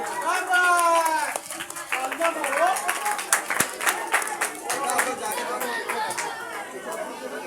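Audience at a children's 14 August school programme clapping and chattering as a child named to the stage walks up, a steady crowd clatter of hands mixed with murmuring voices throughout.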